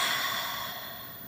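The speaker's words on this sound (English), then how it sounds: "Deep breath." A single deep, breathy exhale during self-massage, close and soft with a slowly fading airy rush, and no other sound around it.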